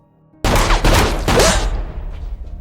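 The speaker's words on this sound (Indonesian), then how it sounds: "tembakan penyelamat datang dari Madeline Hightower" A sudden loud burst of gunfire erupts after a brief quiet, several rapid sharp cracks followed by a fading echo.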